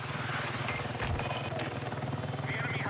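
A small helicopter in the Battlefield 6 video game chops with a fast, steady rotor pulse at moderate distance, fairly quiet and continuous, with brief mechanical clanks and game effects mixed in.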